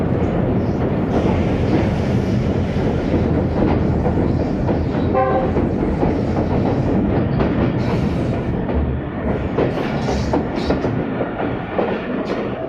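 The Khushhal Khan Khattak Express pulls into the historic Attock Khurd railway station with a loud, continuous rolling rumble and rattle of wagons on the rails, and a short horn sounds partway through.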